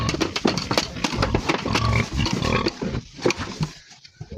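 Farm pigs grunt and snort up close in quick, overlapping bursts, a busy run of rough oinks with short pauses between them and no talking.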